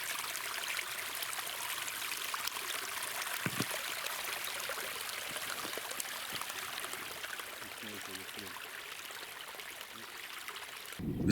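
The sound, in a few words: spring water gushing from a riverbank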